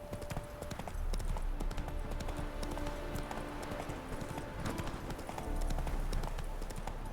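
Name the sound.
horse hooves clip-clopping in a video game (The Witcher 3)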